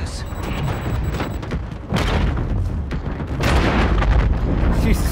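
Gunfire and explosions roar through a Call of Duty: Infinite Warfare battle, dense booms and rapid shots layered continuously and loudly, intensifying toward the end with no pause.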